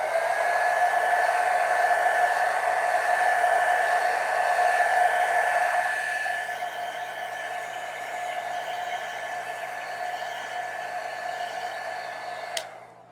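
A handheld blow dryer runs steadily up close, drying watercolor paint on thin 200 GSM paper, its airy whine holding level before dropping slightly in pitch partway through, with a brief click near the end.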